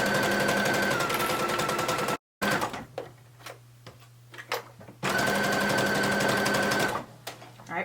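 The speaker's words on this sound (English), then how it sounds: "I'm using a triple stitch to sew my front piece right here where my neckline is" A domestic sewing machine running a triple stitch along the neckline of a dress front piece, loud steady whirring in two long bursts separated by a pause with softer clicks and handling sounds.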